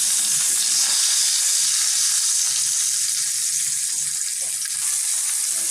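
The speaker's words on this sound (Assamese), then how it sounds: "তেলখিনি গৰম হোৱাত মই এটা এটাকৈ পটলকেইটা দি দিছোঁ আৰু এইকেইটা মই ভালদৰে ভাজি লৈ ল'ম" Pointed gourd (potol) pieces fry uncovered in hot oil, giving a steady, loud, hissing sizzle that continues without a break, with faint stirring underneath and no voices.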